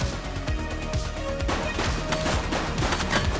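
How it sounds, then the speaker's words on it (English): Rapid gunfire from a shooting suspect in the video game The Precinct, a dense volley of sharp, loud shots cracking in quick irregular succession throughout. "She's shooting!"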